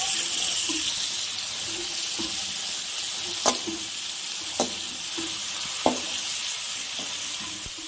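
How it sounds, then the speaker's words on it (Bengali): Dried ribbonfish crackling and sizzling in hot oil, a continuous hiss broken by a few sharp clicks of a spatula against the pan. "শুটকি মাছটা আবার এক পাশ ভাজা হয়ে গেছে। এখন আমি এগুলাকে একটু উল্টে দিলাম।"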